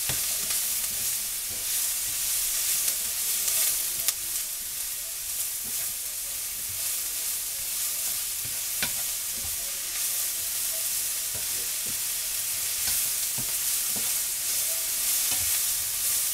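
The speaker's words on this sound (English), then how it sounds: "I'll cook these until shrink a bit, soften, and they suck that oil right up." Onions and mushrooms frying in oil, a steady close sizzle and crackle with the occasional stir or scrape of a utensil, continuous and alone without voices.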